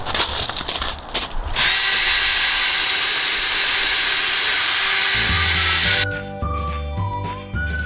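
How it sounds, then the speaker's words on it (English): A power sander with P2000 fine sandpaper works a Lexus IS 250 headlight, a loud steady high whine that holds for several seconds, with clattering before and after. "we're going to apply the P2000, which is the finest coarse sandpaper, to the headlight"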